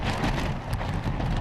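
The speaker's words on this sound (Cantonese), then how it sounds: "雨勢亦都時大時細。" Rain falling during Typhoon Tapah at Tai O in Hong Kong, a brief, steady hiss of drops on surfaces with a low background rumble and no voices.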